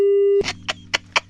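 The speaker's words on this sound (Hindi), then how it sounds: "डेजावू गोयल जी का फोन कट गया है।" A telephone busy tone sounds after a prank call is cut off. A steady, loud tone is heard briefly, followed by short bursts of sound over a low hum.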